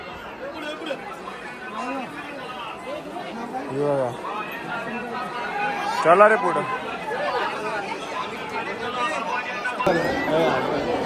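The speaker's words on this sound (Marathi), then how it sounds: "जाम गर्दी आहे इकडे" Busy Sunday crowd chattering at a popular outing spot, a dense steady babble of many voices close around, with a few nearby people speaking over it.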